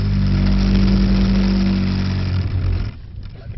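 A Mercedes-AMG 63 engine roars loudly and steadily under power on a driving course at Mercedes-Benz World, then the throttle comes off and the note drops to a lower rumble near the end.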